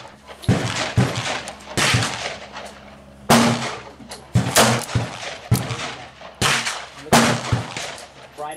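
Three loud, sharp gunshots ring out from an Armscor M206 revolver firing .38 Special handloads, spaced about a second apart and mixed with other shots and echoing reports at a range.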